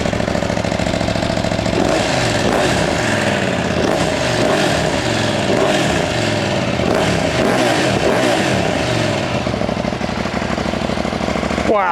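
A 2022 KTM 890 Adventure motorcycle engine revs loudly up close, rising and falling through repeated blips over a steady idling rumble, continuous throughout with no voices.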